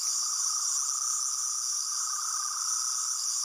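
Third Doctor sonic screwdriver toy emitting its faster, higher-pitched electronic buzz, a steady continuous whine held throughout without pause, fairly quiet and alone.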